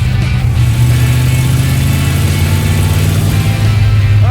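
Engine of a Dodge Road Runner built on a C-body, driven with an unbolted motor and a transmission held in by a ratchet strap, drones steadily from inside the car, loud and continuous with a low rumbling hum.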